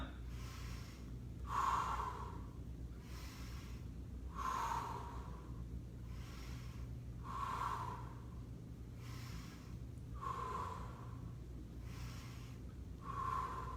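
Steady exercise breathing in a total body conditioning workout, with five loud, breathy exhales spaced about every three seconds over a low hum, close to the microphone.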